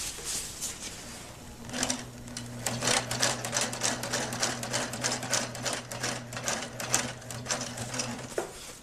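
A sewing machine runs in steady bursts, stitching long seams through tarp fabric for a DIY stealth-camping shelter; the rapid needle clatter is close and continuous, with a sustained motor hum underneath.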